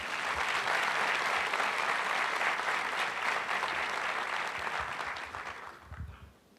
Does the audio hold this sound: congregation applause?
yes